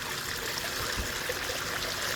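Water sprayed from a squeeze bottle with an angled nozzle, washing out a prospecting bucket: a steady, close hiss and splash of liquid that continues unbroken, with no talking.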